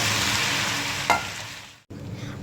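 Ginger garlic paste stirred into browned onions in a pan while cooking haleem. A steady loud sizzle with scraping stirs, one sharper clink, and a brief dropout near the end.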